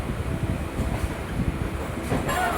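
A Sealdah to Barrackpore local train runs along the line, heard from inside as a loud, steady rolling rumble with wheel clatter and a faint squeal near the end, with no talking.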